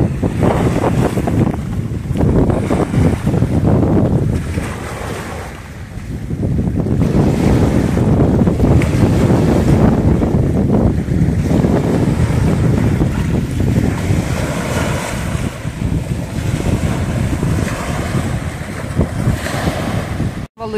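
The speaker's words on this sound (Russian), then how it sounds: "Смотрите, как тут волны бьются о скалы." Waves crash and surge continuously against rocks on the Yeysk Spit beach, with loud broadband roar and gusty wind across the microphone, swelling and easing in a steady rhythm.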